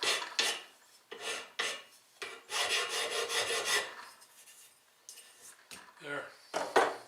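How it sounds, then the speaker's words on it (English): A file rasps a sharp burr off the edge of a freshly machined metal plate in a home shop, with several separate stroking passes of scraping, some longer and sustained, close and moderately loud. "So when you're done cutting, we'll remove that burr."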